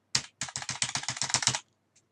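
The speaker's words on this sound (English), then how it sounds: "I don't know if you heard me tapping the arrow key on the keyboard there" Rapid, even run of about a dozen crisp taps on a computer keyboard arrow key, close and clear, followed by one faint final tap after a short pause, no voices.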